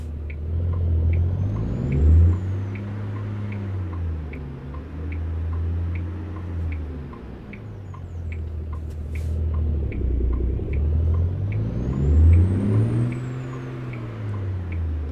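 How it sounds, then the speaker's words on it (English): A truck engine in American Truck Simulator hums at a steady drone and swells into revs twice. A faint, regular ticking like a turn signal runs underneath the whole time. "Just let those RPMs rev on up."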